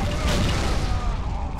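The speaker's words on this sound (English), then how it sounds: "now we can blow this mother trucker up. I love explosions." A deep, rumbling explosion booms loudly and sustains with a broad roar in the video game Alpha Moon.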